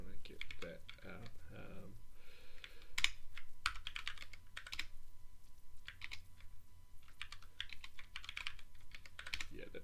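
Key shortcuts typed on a Moonlander 2 split keyboard, with irregular bursts of clicky keystrokes near and moderately loud, with pauses between them and faint talk at times.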